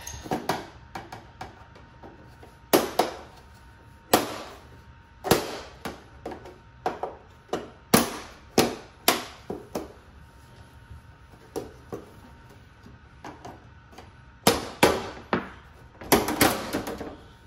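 A screwdriver pries the plastic back cover of a Samsung smart TV off its clips, giving a run of sharp, close snaps and cracks at irregular intervals, some bunched in quick bursts.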